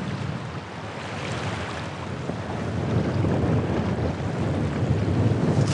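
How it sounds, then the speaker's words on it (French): Outdoor wind at a hunting hide, a steady broadband rush with rumbling microphone buffeting that grows slightly stronger toward the end, with no voices. "Il y a du vent, non?"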